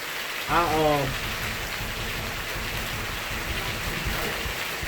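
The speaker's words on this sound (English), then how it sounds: "I like sitting outside or sitting in the window while it rains and listening to the rain." Steady rain patters and hisses evenly throughout, with a brief higher tonal sound near the start rising above the downpour.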